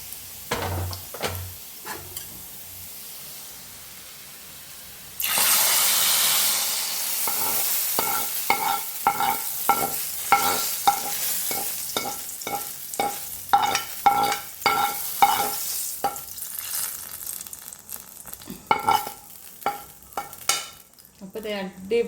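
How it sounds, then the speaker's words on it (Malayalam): Onions frying in oil for a dried shark curry, with a loud steady sizzle and repeated scraping strokes of a stirring spoon against the pan, no talking. "ഉള്ളിയൊക്കെ ഏകദേശം മൂപ്പായിട്ടുണ്ട് കേട്ടോ"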